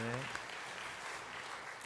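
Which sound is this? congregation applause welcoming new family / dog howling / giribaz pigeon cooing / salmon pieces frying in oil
congregation applause welcoming new family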